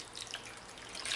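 Hot water poured into a bowl for a bread starter, a soft close trickling and splashing stream, faint and brief with no talk over it.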